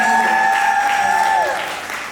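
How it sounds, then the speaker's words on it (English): An audience at a live creative-career talk applauds a guest. Crowd clapping sits underneath a held, steady tone that slides down and fades near the end, with the whole sound easing off toward the close. "Can we get a round of applause for him,"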